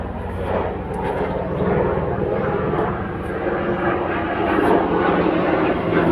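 A military airplane passes overhead with a continuous broadband roar that holds steady and swells slightly toward the end, with no other sounds in the clip.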